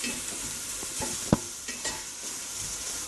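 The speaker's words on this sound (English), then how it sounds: "when the onions cooking and getting softened" Onions soften in a hot pan under a steady, close sizzle, while a utensil stirs and scrapes across the metal with a few sharper knocks, and no one speaks.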